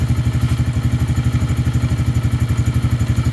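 A Lifan King motorcycle engine idles close by, its loud, steady rapid thumping pulsing evenly throughout with a faint mechanical clatter and no voices.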